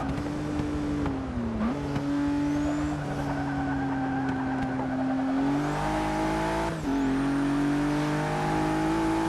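A 2017 Ford GT in the Forza Motorsport 6 racing game drives hard, its engine droning and shifting pitch as it enters a corner, loses grip and spins, all loud and continuous with no talk.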